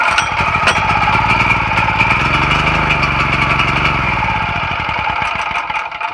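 A faulty gas generator engine runs on half choke, a loud, steady close-up drone with a rapid pulsing beat that holds throughout.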